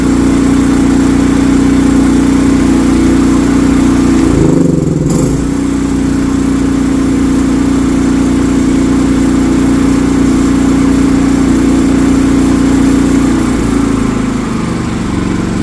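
A Philking 4200W inverter generator drones steadily and loudly under the load of a welding machine, its tone briefly dipping and recovering around the fifth second before holding steady again.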